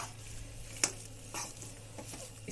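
Ginger halwa with fresh cream stirred in a pan, heard as soft scraping and a faint sizzle, quiet and close, with one sharp clink of a utensil early on.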